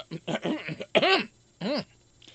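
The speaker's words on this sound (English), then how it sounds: "clearing my throat." Someone clears their throat close up in a few rough, voiced bursts, the last one a drawn-out gravelly hum.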